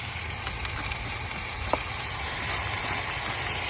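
Nitrogen escapes from a leak in an R22 HVAC system line, a steady broadband hiss with a faint high whistle running continuously at close range, no talking.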